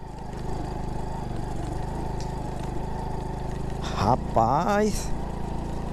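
Honda Pop motorcycle engine pulling in first gear on a dirt road: a steady, close mid-pitched drone runs throughout, while someone speaks briefly near the end.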